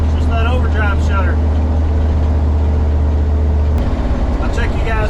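A Toyota Land Cruiser with a 350 V8 and fuel trouble idles in a steady low rumble that drops abruptly near the end, while someone talks over it.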